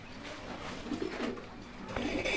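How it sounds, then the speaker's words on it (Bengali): Large, high-quality pigeons at a breeding farm give a soft, throaty cooing that repeats in low rolling pulses over steady background noise, close by and moderately loud. "অনেক বিগ সাইজের কবুতর দুইটা"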